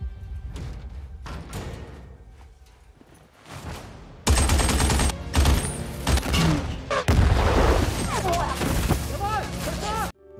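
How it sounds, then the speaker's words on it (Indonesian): Battle-scene gunfire with German anti-aircraft troops exchanging fire, scattered shots at first, then dense loud bursts and booms crowding together under a dramatic soundtrack. "Akhirnya, baku tembak kembali terjadi."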